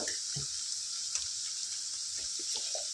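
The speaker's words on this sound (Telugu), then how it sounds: "అల్లం వెల్లుల్లి పేస్ట్ పచ్చివాసన పోయేంత వరకు ఈ విధంగా ఫ్రై చేసుకుందాం" Ginger garlic paste frying in a pan with onions and chillies, giving a steady soft sizzle with faint stirring clicks and scrapes, close and even throughout.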